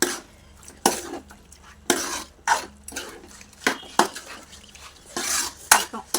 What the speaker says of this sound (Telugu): ఆ పేస్ట్ని వేసుకొని బాగా మిక్స్ చేసుకోవాలి